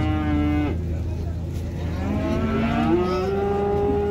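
Male calves, around four to six months old, moo at a busy cattle market, giving a few drawn-out, close calls over a steady background din of the crowd and livestock.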